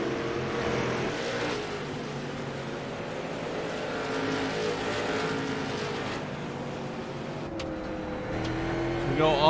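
Race cars roar around the track in a late-race battle, engines droning and shifting pitch steadily under ongoing commentary, swelling louder as a car approaches near the end.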